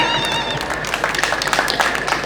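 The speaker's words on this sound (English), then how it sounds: "An applause for that." Audience applause at a World Tourism Day gathering in Kasese, a dense patter of clapping mixed with crowd noise and some voices, steady and moderately loud for the whole stretch.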